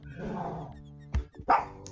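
A cartoon dog in the video game Monkey Island 2: LeChuck's Revenge lets out two sharp, close barks in quick succession after a rumbling, growl-like sound.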